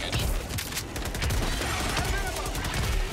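Shotgun blasts in the co-op shooter Helldivers 2 sit inside a dense, continuous battle din, with overlapping shots and chaotic noise filling the whole moment.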